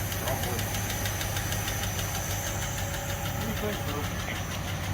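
A 1949 Packard engine idles steadily and close by, with a light, rapid mechanical tick riding over the low, even rumble of the motor throughout.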